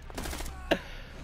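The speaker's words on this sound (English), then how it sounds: "Just shot that kid in the face." A single sharp gunshot rings out in the tactical shooter Rainbow Six Siege, a brief loud crack standing out over a low game rumble and background noise.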